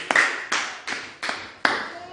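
Church congregation clapping hands for Jesus during a sermon, five sharp claps in an uneven rhythm, each a loud crisp burst that fades quickly, with no talking over them.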